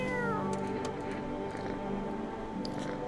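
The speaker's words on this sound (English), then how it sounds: "Let's pet the cat." A cat in a video game meows as it is petted, a clear, close meow with a rising pitch that tails off, set over a steady background hum.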